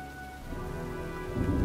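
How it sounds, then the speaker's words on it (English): A storm from the video game Heavy Rain: steady rain falls on surfaces with a low, rumbling thunder undertone, swelling slightly louder toward the end, with no voices. "looks like a storm's coming"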